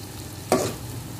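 Tomatoes hitting a hot frying pan with tempeh and green beans give one quick sizzling splash, a brief burst of hiss over a low background before it settles.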